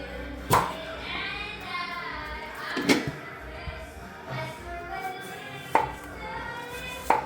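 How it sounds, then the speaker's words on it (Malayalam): A knife chopping through banana stem on a board, a few sharp separate chops spaced seconds apart, with faint voices and kitchen noise in between. "നമുക്ക് ആദ്യം ഈ ചെറിയ പീസ് കാമ്പ് പെരക്കുന്നതിന് വേണ്ടിയിട്ട് കട്ട് ചെയ്യാം"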